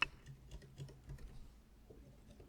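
Quiet typing on a Magic Keyboard-style keyboard with somewhat heavy key pressure, a loose run of soft, close clicks and taps over about two and a half seconds with no voices.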